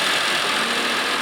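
A 1989 Honda Acty 4x4 kei truck's single-cam three-cylinder engine with distributor runs, steady and fairly loud, a continuous hissy idle drone with no voices over it.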